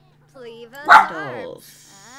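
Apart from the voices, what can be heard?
dog barking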